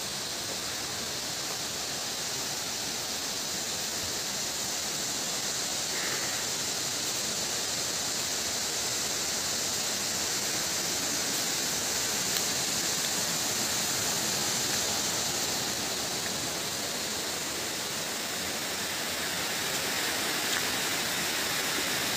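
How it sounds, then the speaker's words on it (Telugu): Sarugudu waterfall in the dry season, carrying little water, gives a constant soft hiss of falling water, even and unchanging, heard from a short distance with no voices. "అక్కడ జలపాతం పడే సౌండ్ మీకు చూపిస్తానండి"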